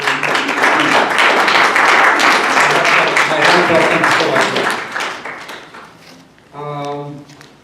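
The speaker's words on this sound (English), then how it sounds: "I would like all of us now to give Sona a round of applause." Conference audience applauding at the opening of an academic gathering on confessionalization and reform, a dense, steady wash of clapping for about five seconds that fades out, followed by a brief voice.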